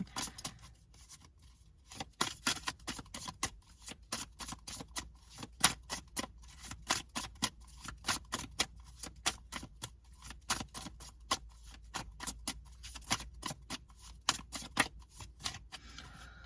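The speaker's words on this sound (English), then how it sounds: "I'm going to go ahead and pull a couple cards from this deck" A card deck is shuffled and cards are pulled, giving a quiet, close run of crisp irregular flicks and snaps that come in quick bursts with short pauses between them.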